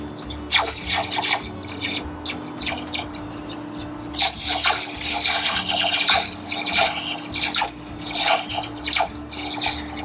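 A series of rapid, zappy metallic swooshes from a slinky dropped over a cup, repeating in bursts over a steady low hum.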